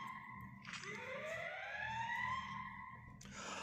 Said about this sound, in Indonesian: sirene sudah mulai terdengar tadi